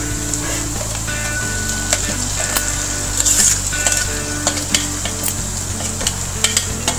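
Ground dried chilli and tamarind sizzle loudly in a frying pan for tomato pickle, with a wooden spoon scraping and clacking in an irregular stirring rhythm.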